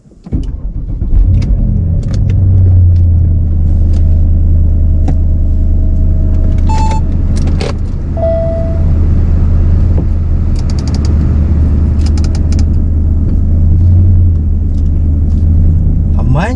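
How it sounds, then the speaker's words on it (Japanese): A car engine idles with a low steady rumble as the vehicle creeps slowly forward without the accelerator pressed, with a few faint mechanical clicks and tones over the hum. "もうクリープだけで前出てます"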